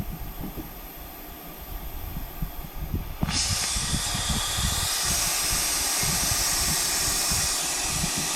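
Propane hisses steadily through a homemade transfer hose and valve, a continuous broadband rush that jumps abruptly louder partway through and stays strong to the end, with no talking.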